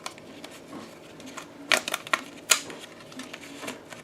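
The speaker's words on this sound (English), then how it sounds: "pull back, and then simply rock it gently, and it will actually load the film onto the spool" Small plastic clicks and ratchets come in quick irregular bursts from a vintage film developing reel as film is loaded onto the spool by rocking it gently, close and fairly quiet, with faint handling noise between the clicks.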